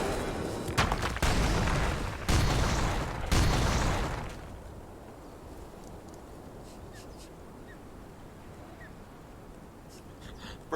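Loud booming blasts from an explosion in the video game Conan Exiles, several heavy bursts over the first four seconds, then a quieter low rumble with faint scattered sounds.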